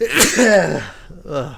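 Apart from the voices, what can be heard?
sneeze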